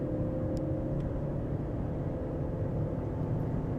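A Volvo S80 with a 2.4 diesel five-cylinder engine is driven while shifting down gears. A steady, loud engine drone and road rumble continue throughout, with no talk.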